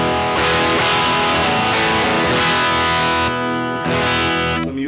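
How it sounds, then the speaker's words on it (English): Electric guitar played through an amplifier alone, pushed hard into heavy overdrive with no pedal, gritty sustained chords changing a few times, loud and alone. "the distortion, the overdrive that you're hearing, is actually the amplifier working very hard"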